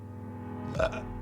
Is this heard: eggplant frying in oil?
no